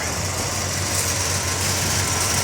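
A 1973 Pontiac Grand Am engine idles smoothly and quietly with no lifter ticking, giving a steady, even low hum throughout with no voices.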